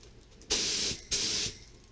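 Two short bursts from a spray paint can coat metal trike parts, each a loud, close hiss lasting under half a second with a brief pause between.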